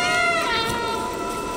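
In the video game Stray, a drawn-out, wavering cat meow plays close and clear over soft background game sound.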